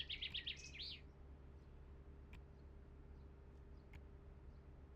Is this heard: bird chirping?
yes